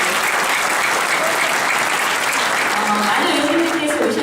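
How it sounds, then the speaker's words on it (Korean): Loud, dense applause from a large audience at a policy concert forum in Seongnam, a continuous roar of clapping throughout, with a voice briefly rising over it near the end. "박수 부탁드립니다"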